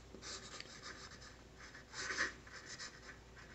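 Pen strokes of handwriting on paper, Chinese characters written in short scratchy bursts, faint and close with no talking.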